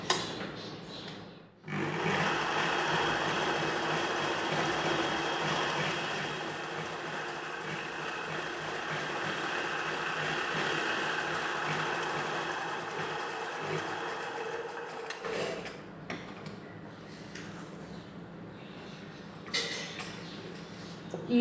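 A sewing machine stitches a second line of double stitching on a chudidhar pant, running in one long steady whir, then pausing and giving a few short bursts and clicks near the end.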